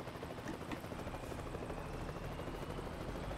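A helicopter hovers in the video game Euro Truck Simulator 2, its rotor chopping in a steady, even rhythm through a continuous low engine drone at moderate loudness, with no talk.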